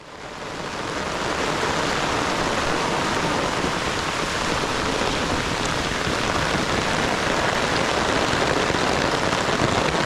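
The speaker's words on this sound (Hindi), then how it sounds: "So it started to rain today only" Heavy rain pours steadily in Anuradhapura, Sri Lanka, a dense, continuous hiss that swells in over the first second and then holds loud and even, with no voices.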